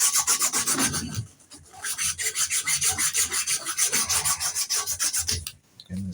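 Rhythmic back-and-forth rubbing on the wooden handle of a hidden tang knife gives close, raspy strokes in quick succession, with a brief pause partway through.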